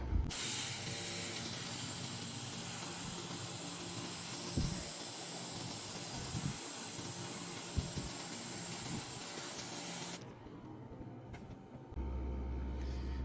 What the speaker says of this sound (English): I'm gonna spray this on the scales on his chest